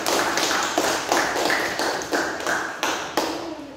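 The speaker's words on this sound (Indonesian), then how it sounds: "aplaus buat kelompok 1 ya" A classroom of students applauds for the first presentation group, a burst of claps that comes in repeated waves, close and fairly loud, with no talking over it.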